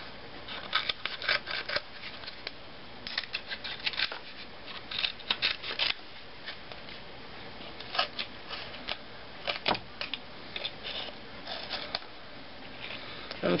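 Scissors snip away excess material while shaping a miniature bathtub in a craft setting, giving quiet, irregular clipping and rustling sounds in scattered short bursts, with no talking.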